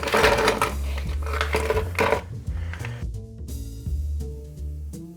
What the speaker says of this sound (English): We're going to add 2 to 3 good sized cubes of ice.